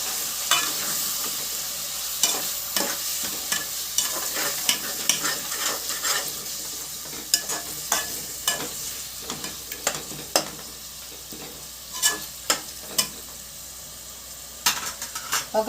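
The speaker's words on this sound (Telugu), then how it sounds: "బోటి వేసుకుని బాగా కలపండి ఫ్రెండ్స్." Boti, goat tripe curry, is stirred in a pan over a constant low sizzle, with sharp scrapes and clacks of a spoon against the pan repeating irregularly throughout.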